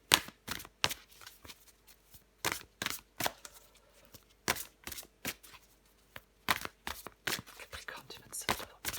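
Tarot cards are shuffled and drawn in a series of crisp, close riffling bursts and quick snaps, irregular but frequent, with soft whispery handling between them.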